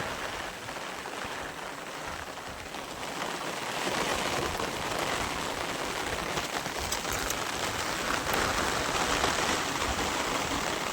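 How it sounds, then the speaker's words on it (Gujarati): Heavy rain falls on a farm in a steady, dense roar, swelling louder after a few seconds and holding there, with wind in the background and no speech. "અડધી કલાક જેવું થયું છે વરસાદ ચાલુ છે"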